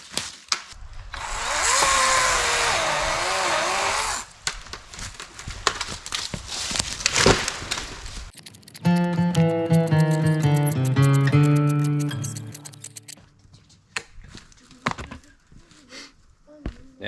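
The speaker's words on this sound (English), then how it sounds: "I'm going to use the little Kobalt 24 volt saw and start cutting some stuff up" Small Kobalt 24 volt battery chainsaw cutting up brush outdoors, running in loud buzzing bursts of a few seconds each, broken by short quieter gaps with rustling and handling noise.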